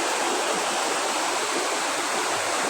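Clear river water flowing steadily past rice paddies, a continuous broadband rush without pause, close and fairly loud with no voices over it.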